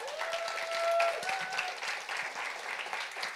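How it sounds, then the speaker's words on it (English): Audience applause at an after-work entrepreneurship storytelling evening, a sustained wash of many hands clapping, moderately distant and steady, with a faint tonal whistle drifting above it. "One more round of applause for Harry."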